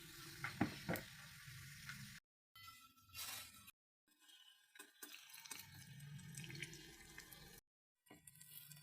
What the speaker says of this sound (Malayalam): നല്ല ഒരു ഗോൾഡൻ കളർ ആകുന്ന വരെ ഫ്രൈ ചെയ്തെടുക്കാം